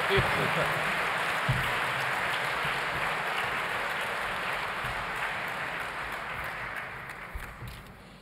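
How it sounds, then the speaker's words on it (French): Sustained applause from a sizable crowd, dense and even, slowly tapering toward the end. "très bien qu'on applaudit avant le commencement"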